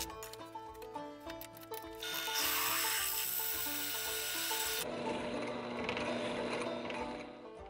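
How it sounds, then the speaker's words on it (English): A power drill with a 3/16 bit whirs and grinds steadily through a knife's lanyard hole, with a rougher, louder cutting phase partway through and a lower grinding tone toward the end. "I'm drilling through the lanyard hole with the 3/16 drill bit"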